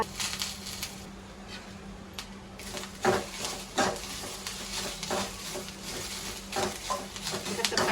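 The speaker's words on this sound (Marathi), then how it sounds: "त्याच्यात टाकूया कांदा भाजायला" Chopped onion frying in oil in a pan for a country chicken curry, a steady sizzle with spoon scrapes and clinks against the pan, moderately close with no talk.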